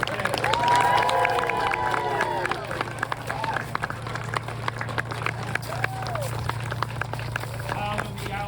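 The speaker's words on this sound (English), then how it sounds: "give a round of applause to that unrelenting spirit" An outdoor crowd in Sleepy Hollow claps and cheers for a Headless Horseman performer, with dense applause and scattered voices that fade into lighter clapping and chatter.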